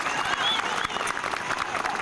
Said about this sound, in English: I would like to hear a little bit more applause when you acknowledge these people who are working so hard on this stage